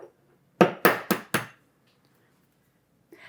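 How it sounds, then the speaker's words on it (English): Four sharp, close cracks of eggs being broken one at a time into a bowl, separating whites from yolks; the knocks come in quick succession, followed by near silence and a faint sound at the end. "I crack my eggs one at a time into a separate bowl"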